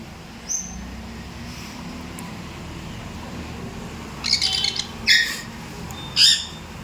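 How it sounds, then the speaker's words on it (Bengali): A sun conure parrot gives three or four short, sharp squawks in the latter part of the clip. The calls stand out fairly faintly over a quiet background hum. "এই যে একটা কনুর সান কনুর আছে"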